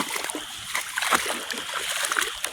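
Water splashes and sloshes through a flooded area in irregular bursts up close, a continuous watery wash with scattered louder splatters.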